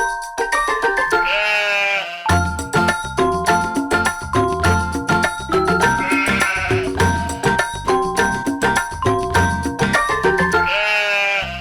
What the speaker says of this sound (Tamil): ஆட்டுக்குட்டி ஆட்டுக்குட்டி அக்கறை மேயும் ஆட்டுக்குட்டி.